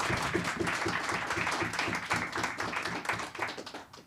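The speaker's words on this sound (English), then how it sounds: "Can we give them a round of applause?" An audience applauds a panel at a surgery health forum in Tokyo, a dense, even patter of many hands clapping for about four seconds before thinning out at the end.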